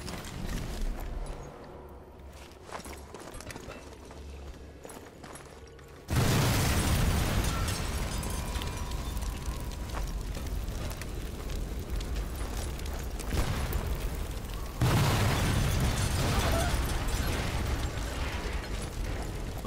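Artillery strike explosions in Sniper Elite 4, two heavy booming impacts arriving a few seconds apart after a quieter stretch, each followed by a long rumbling, crackling tail of debris, no speech.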